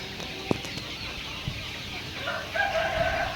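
Desi free-range country chickens on a poultry farm in Jintur cluck intermittently, and a rooster crows near the end, against quiet farm ambience.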